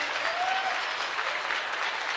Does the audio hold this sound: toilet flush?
no